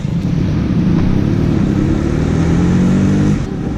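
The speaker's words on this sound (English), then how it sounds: "It's a single kickstart even today, and let's ride this around the town" An Ind-Suzuki AX 100, a 100 cc single-cylinder kickstart motorcycle, ridden around town, its steady engine drone rising gently as it pulls, close and continuous with no talk.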